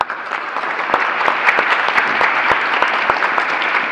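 Audience applause at an evening architecture lecture in Athens, a dense, even roll of clapping with distinct sharp individual claps standing out, fairly loud and sustained throughout without speech.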